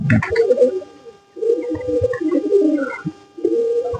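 Domestic pigeons cooing in repeated low, throaty phrases, close and fairly loud, with short pauses between bouts and no talking.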